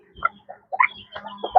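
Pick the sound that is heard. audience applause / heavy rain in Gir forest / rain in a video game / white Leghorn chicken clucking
white Leghorn chicken clucking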